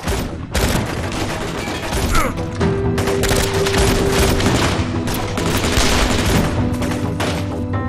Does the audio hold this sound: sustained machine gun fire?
yes